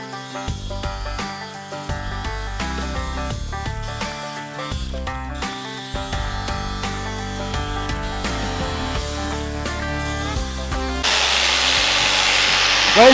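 A tool cuts a round hole in a plastic bucket being made into a birdhouse, a steady buzzing, rasping drone close up that grows louder and harsher near the end, with no talk.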